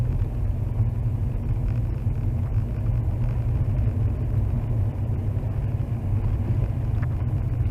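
A car on Nokian WR D4 winter tyres drives twisting, hilly snowy roads, heard as a steady low engine and road rumble from inside the cabin with no talking.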